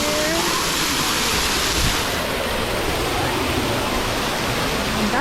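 A resort pool waterfall at the Grand Floridian pours in a loud, constant roaring wash of water, heard from right underneath it with no break.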